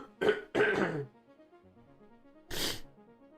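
A man coughs and clears his throat in quick, rough bursts, then once more after a short pause, close to the microphone and fairly quiet, during a live day-trading stream.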